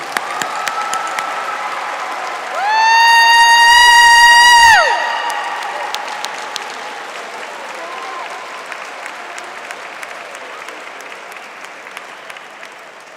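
A crowd at an executive MBA commencement bursts into loud applause and cheering, with whoops over steady clapping while a sustained musical tone plays briefly, then the clapping tapers off.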